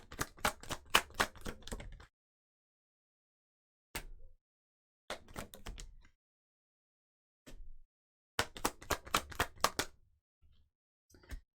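Tarot cards being shuffled in several separate bursts of rapid riffling and flicking, crisp and close, with silent gaps between the bursts and no voices.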